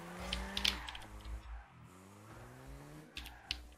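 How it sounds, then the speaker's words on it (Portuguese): Sharp computer keyboard clicks come in two short bursts during a Rocket League match, over the steady hum of game engine noise and effects. "Só ouvi o teclado dele."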